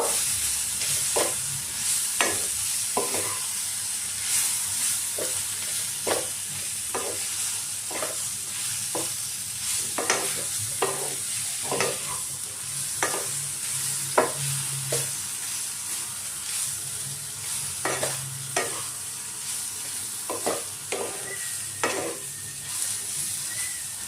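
Chicken pieces sizzle in a hot pan while a spoon scrapes and stirs in a steady, repeated rhythm, close and moderately quiet, with no voices.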